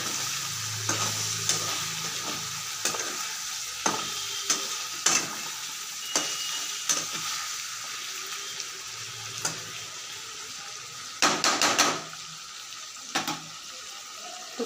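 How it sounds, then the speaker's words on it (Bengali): Chicken curry sautéing in a pan with chili powder, a spatula scraping and stirring in repeated strokes over a steady low sizzle, with a few louder clattering bursts near the end. "একটু কষিয়ে নিই ভালো করে।"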